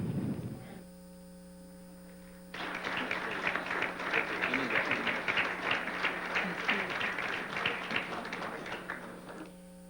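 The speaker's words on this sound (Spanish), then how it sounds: "La despedimos con un cálido aplauso." Warm applause from an audience at a Senate tribute ceremony, steady dense clapping that swells in after a short hum-filled pause and carries on evenly over a constant electrical hum.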